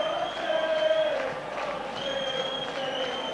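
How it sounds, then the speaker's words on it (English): A rugby league crowd at St Helens versus Hull in 1984 salutes a try scorer, a broad, steady roar of cheering and applause from the stands with a commentator talking over it. "The crowd came on then to salute Neil Holding"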